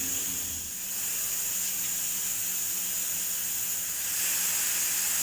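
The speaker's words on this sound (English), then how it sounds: "We just need to release the steam. Do it very gently." A steady, high-pitched hiss of steam escapes continuously from a pressure cooker cooking beef stew, loud and close, swelling slightly near the end.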